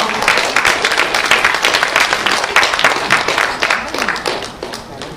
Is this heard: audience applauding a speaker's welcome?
yes